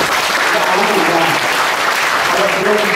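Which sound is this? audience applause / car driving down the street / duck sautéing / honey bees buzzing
audience applause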